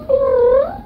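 A voice imitates a cat's meow, one short, loud, close nasal mew with a rising then falling pitch, heard alone.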